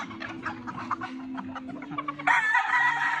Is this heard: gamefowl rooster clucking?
yes